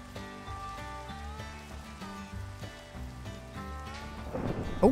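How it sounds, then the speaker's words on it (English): A Minecraft thunderstorm pours steady rain beneath a layered game soundtrack, with a rumbling swell of thunder rising at the very end; no voices are heard. "Oh my god, it's lightning. Lightning, my dudes."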